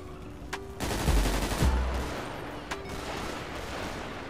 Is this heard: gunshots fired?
yes